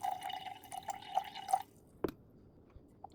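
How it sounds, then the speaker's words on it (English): Water pours in small drips and splashes into a sourdough starter for about a second and a half, then stops. A single soft knock follows in the quiet afterward. "I'm going to add 80 grams of water."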